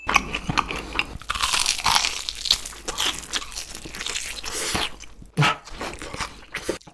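Crunchy fried August chicken being bitten and chewed close up, with loud crackling crunches and bites coming in bursts throughout, alone without talk.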